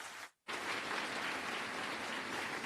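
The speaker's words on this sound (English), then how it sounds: "Another round of applause, tafadhali, for the kind words from the Ministry of Education" Audience applause fills a scholarship commissioning ceremony, steady and dense like heavy rain, breaking off briefly near the start before resuming at full strength.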